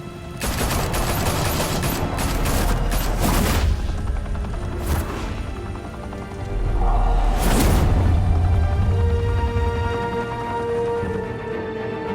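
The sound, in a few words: gunfire in Batman: The Telltale Series video game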